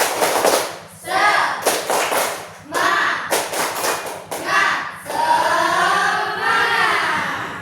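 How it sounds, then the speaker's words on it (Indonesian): A group performs the 'tepuk semangat' spirit clap in unison, loud rhythmic bursts of clapping grouped in patterns, with a steady hum underneath and voices chanting along, the final stretch turning into cheering voices. "Nah, semuanya 1, 2, 3. Tepuk semangat."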